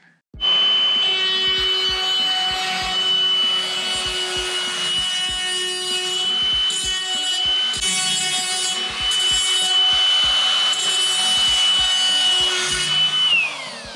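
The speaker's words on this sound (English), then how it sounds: "I'll grab the die grinder real quick and we'll clean that up." A die grinder spins steadily while deburring a freshly drilled, rough hole in a mobile toolbox, giving a continuous high whine with grinding rasp and short scraping bursts, loud and close, with no talk.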